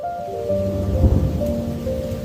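Steady rain falls with a low rumble of thunder swelling near the middle, over a faint sustained background tone.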